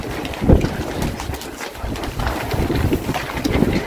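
Strong wind after a hurricane roars and buffets outdoors in a loud, continuous rumble with gusty surges, rattling noises mixed in.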